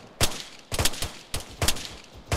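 Sniper gunfire crackles in Arma 3 during a British Army counter-insurgency patrol in Sangin, with five sharp, loud reports spaced at uneven intervals, each followed by a brief rolling echo.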